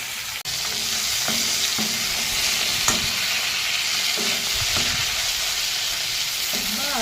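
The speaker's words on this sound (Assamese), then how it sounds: "এইডোখৰ অলপ কমকৈ ভাজি থ'ম।" Fish pieces fry in oil with a continuous close sizzle while a utensil knocks and scrapes the pan several times, including a sharp clank near the start.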